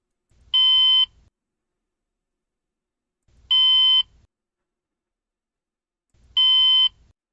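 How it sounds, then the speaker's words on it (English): Trading platform alarm for a 2-minute opening range breakout: three identical loud electronic beeps, each about half a second long, evenly spaced roughly three seconds apart and separated by silence. "That is going to be the alarm for the 2-minute ORB"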